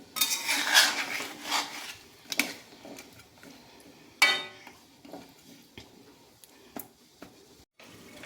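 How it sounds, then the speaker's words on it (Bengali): A spoon stirs chicken dopeyaja curry in a pot, making close, irregular metallic clinks and scrapes with short pauses between them, and no talking. "এটা ভালো করে নেড়ে নিয়ে আরও 5 মিনিট আমি ঢাকনা দিয়ে সিদ্ধ হতে দেবো।"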